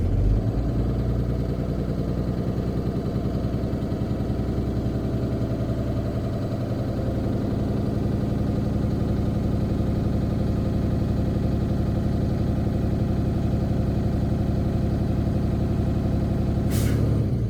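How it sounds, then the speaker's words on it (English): A truck engine revs up to 1500 RPM and holds there, a loud steady diesel drone close by, ending with a sharp hissing burst of air near the end. "I'm gonna accelerate, bringing the RPM up to 1500 so I can fill my tank up above 120"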